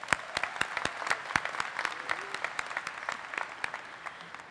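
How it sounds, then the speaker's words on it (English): Scattered, sparse applause for the faculty at a commencement ceremony, individual claps ringing out distinctly at moderate distance, quiet and continuing throughout. "I'd like to give one more round of applause to our wonderful faculty"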